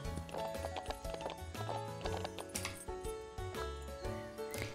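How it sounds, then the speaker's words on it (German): A horse's hooves clip-clop at a steady working gallop in the ranch game Ranch of Rivershine, a continuous rhythm set under a busy bed of game music, with no one talking. "Vielleicht sollte ich jetzt einfach hier ein bisschen rumgaloppieren im Arbeitstempo."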